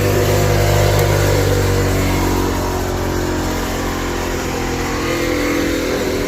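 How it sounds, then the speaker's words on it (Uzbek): A universal crusher (drabilka) with an original Ariol motor runs loud and close, a continuous droning hum with a strong low tone that eases slightly after a couple of seconds. "Ariol original motor."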